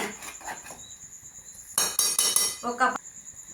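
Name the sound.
stirring chicken and spiny gourd curry in a pan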